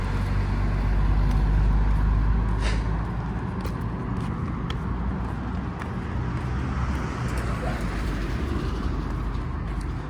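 Road traffic streams along King Abdullah Road in Riyadh, a steady, loud low rumble of passing cars and heavier vehicles that swells slightly early on and continues unbroken, with no talk.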